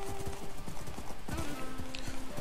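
A horse in a Minecraft Party Games horse race on Hypixel: quick clip-clop hoofbeats and a few whinnies at moderate loudness, close by, with a player's voice talking over them.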